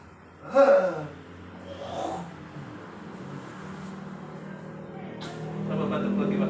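A man coughs during a therapy session in Kudus, his cough likened to a cow's low moo: one loud, harmonic burst near the start, followed by quieter rough breaths and murmured voices in the room.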